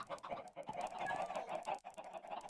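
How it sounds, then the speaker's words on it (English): Chickens cluck in the video game Minecraft, a faint run of short, repeated clucks and fowl calls heard alone without talk. "I kept hearing chickens"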